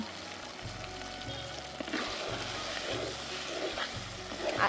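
Chicken pieces with mango being sautéed dry in a pan, giving a steady close sizzle and frying hiss with a low rhythmic rumble of stirring underneath, no voices present.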